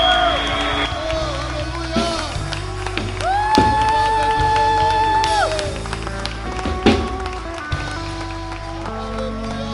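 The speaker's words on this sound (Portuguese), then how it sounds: "Aplauda o Senhor." Church congregation at a family celebration service clapping and cheering the Lord, a sustained wash of applause with whoops, heard under loud music and a preacher's amplified voice.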